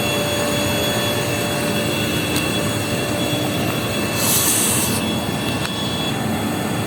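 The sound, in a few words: underground machine pumping up seawater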